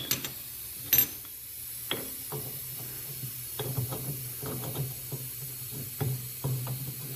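A threading die is worked over the exhaust threads of a BMW R69S-era motorcycle, giving scattered short metallic clicks and scrapes in uneven bursts against a quiet background.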